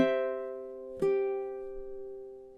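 Two plucked ukulele notes from The Office theme, the first ringing out, the second struck about a second later and sustaining as it slowly fades; close and clear, with no talking.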